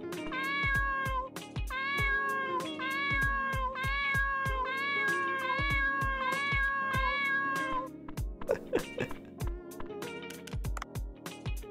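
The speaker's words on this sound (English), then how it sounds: "Let's go see the cat." Cat meowing in the video game Dave the Diver, a rhythmic run of repeated meows over game music and steady beats, then scattered game sounds.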